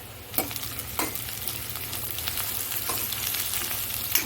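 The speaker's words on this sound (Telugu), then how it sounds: "ఆనియన్స్ అయితే కలర్ చేంజ్ అవ్వాలి అంటే బాగా వేగాలి" Onions fry in a pan with salt and turmeric, a steady close sizzle with a few sharper crackles and stirring scrapes throughout, no voices.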